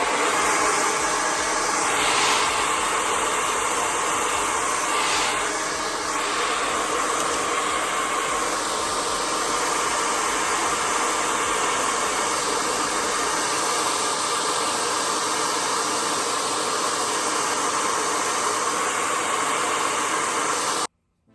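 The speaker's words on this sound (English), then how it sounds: "I'm blow drying this on medium heat" A hair dryer on medium heat blowing over wig lace, a steady loud hissing whoosh running continuously and close for about twenty seconds before cutting off abruptly at the end.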